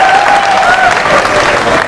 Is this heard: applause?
yes